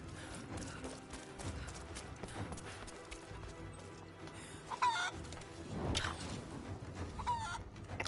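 Chickens cluck and squawk in a village within the video game Rise of the Tomb Raider, scattered calls over a busy, steady background of game ambience with a few sharper bursts near the middle and end.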